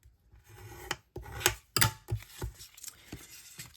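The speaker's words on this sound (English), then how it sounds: "I'm going to go ahead and make those folds." Scored cardstock being folded for a stand-up card, heard as a run of dry rasping creases and soft rubs with several sharp crackling presses, close and fairly quiet, with no talking.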